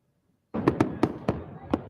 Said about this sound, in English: New Year's Eve is often known for its colorful and loud fireworks shows.